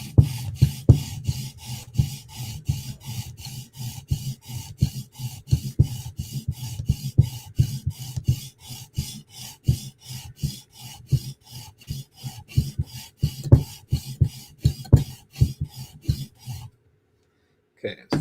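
Knife sharpening on a Chris Reeve Umnumzaan tanto blade being polished to a mirror, with steady repeated rasping strokes in a quick back-and-forth rhythm, close and fairly loud, continuing for most of the span before stopping abruptly near the end.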